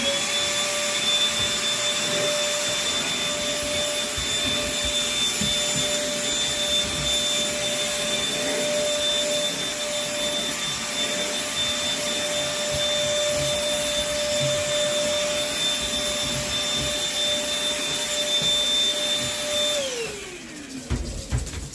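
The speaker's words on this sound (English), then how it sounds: "Then I just vacuum the rest of this up." A vacuum cleaner runs steadily and loudly up close with a constant whine while cleaning a guinea pig enclosure, then powers down at the end.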